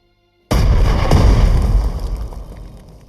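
A single loud artillery blast from the World War II strategy game Strategic Mind Blitzkrieg, a sudden deep boom that rolls into a long, rumbling decay, with no talk.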